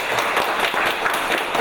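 Seminar audience clapping in recognition of a company's new patent, a dense, even burst of applause filling the short moment.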